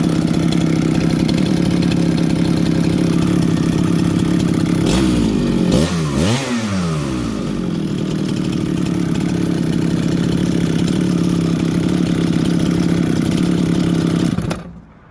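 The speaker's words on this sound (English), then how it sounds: "because the chain was dull and the saw still revved up. So it started idling weird." Chainsaw with a dull chain idling erratically after revving, a steady mid-pitched engine drone with a brief surging, wavering blip in the middle before it idles on and then cuts out abruptly.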